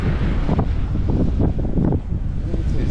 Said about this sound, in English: It's pretty breezy out here today.